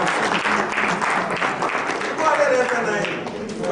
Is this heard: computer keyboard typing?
no